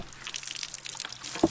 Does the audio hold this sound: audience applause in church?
no